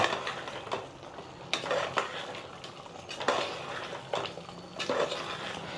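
Mutton boti curry is stirred in a pan with a utensil, giving repeated scraping, clinking strokes against the metal with a soft sizzle underneath. The strokes come at an uneven pace, close and moderately loud, with no talking.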